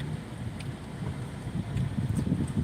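Wind blowing outdoors at a temple in Chiang Khan, a soft gusty rumble buffeting the microphone, rising slightly toward the end, with no voices.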